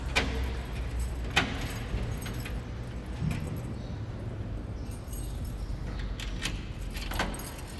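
Keys jangle in several close metallic bursts as the set of three keys for a safe holding old holy books is handled, rattling intermittently over a steady low background rumble.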